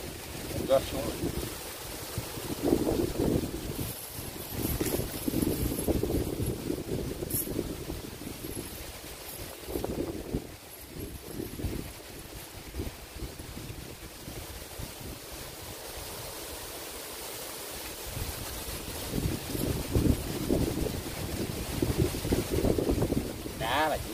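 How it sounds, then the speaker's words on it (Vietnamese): Strong wind sweeps across an open rice field during a fish-catching outing, buffeting the microphone with low, rumbling gusts that rise and fall throughout, while people talk intermittently. "Gió quá gió."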